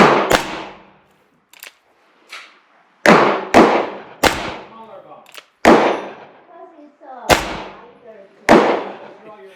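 Handgun shots fire cast Lyman 358101 wadcutter bullet loads outdoors. About ten sharp, loud reports arrive at irregular intervals, each followed by a brief ringing decay, with some faint talk between shots.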